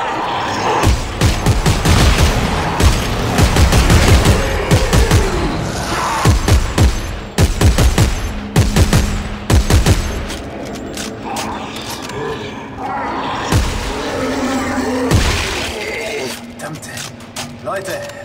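Rapid bursts of gunfire from a new weapon in the sci-fi horror video game Dead Space 3, loud repeated shots and booms with mechanical clanks, thinning out toward the end.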